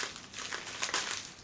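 Paper packaging of a book parcel crinkles and tears as it is pulled open by its tab, a brief close rustle, quiet and without talk.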